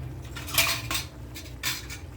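A metal lid clinks against a cooking pan of mushroom gravy, two or three close, bright knocks over a low steady hum.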